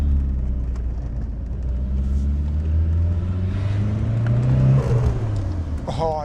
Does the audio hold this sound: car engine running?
yes